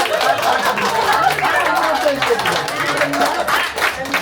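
Guests clap at a birthday party magic show, scattered hand claps mixed with chatter and a little laughter from a small nearby crowd, with voices talking over it.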